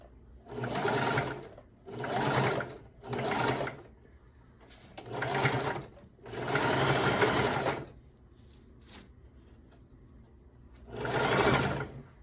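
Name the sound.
sewing machine sewing down a bodice seam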